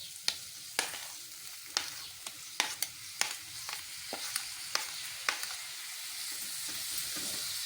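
Tomatoes sizzling gently in a pan while being stirred, with quiet, steady frying under a series of sharp spoon or spatula clinks against the pan, and no voices.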